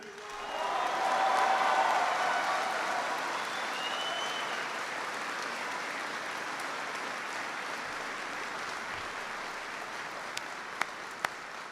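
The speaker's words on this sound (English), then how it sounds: "I want everyone to give a big round of applause to the amazing families who serve along with you." An audience at a military base event applauds military families, a broad, steady wash of many hands clapping that swells early and then holds evenly before tapering with a few isolated louder claps.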